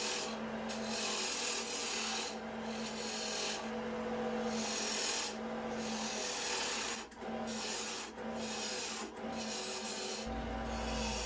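An underpowered wood lathe turns a pepper mill blank while a tool cuts it, making a continuous rough rasping drone with a few brief dips where the lathe stalls, heard close and without speech.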